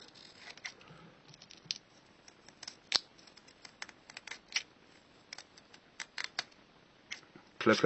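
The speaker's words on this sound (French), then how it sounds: "Vous voyez avec quelle facilité on peut les couper." Scissors snip thin racing reed-valve membrane strips for a Peugeot Vogue moped, making quiet, crisp, irregular cuts close by with soft rustling between snips.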